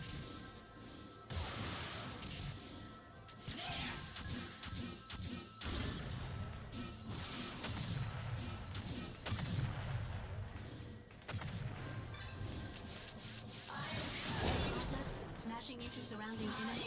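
Mech combat in the video game Zone of Enders 2, with the mech smashing into enemies: repeated heavy crashes and whooshing impacts over a loud, dense game soundtrack that runs steadily throughout.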